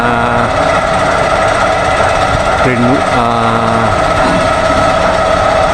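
A drill rig set vertically works at the Samal Island–Davao connector bridge construction site, producing a loud, continuous mechanical drone with a droning engine hum and a brief pitch dip midway.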